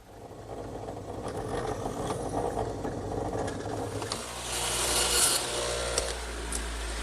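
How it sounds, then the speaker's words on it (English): A drill bores a pilot hole for a screw in wood at a woodworking bench, a steady continuous whirring grind that swells louder partway through, heard alone at close range. "Now I'll change to a smaller bit to make a pilot hole for the screw."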